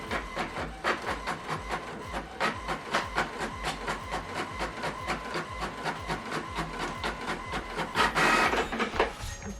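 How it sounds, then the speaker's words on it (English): An HP printer runs a double-sided black-and-white print job, its mechanism clicking in a steady rapid rhythm with a rising whir of paper feed near the end, close and moderately loud with no talking. "So we are printing double-sided, black and white,"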